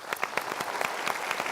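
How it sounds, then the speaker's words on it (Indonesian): Brief audience applause at a motivational talk by Mario Teguh, a short burst of fairly loud, distinct handclaps from a crowd lasting just over a second. "Kita berikan tepuk tangan dulu."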